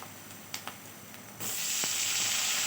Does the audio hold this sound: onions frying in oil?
yes